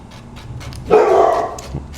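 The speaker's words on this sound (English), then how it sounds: "that's my dog" Inside a taxidermy workshop, a dog lets out one loud, close bark with a short tail, followed by a smaller yip-like sound, over quiet room noise with faint scraping.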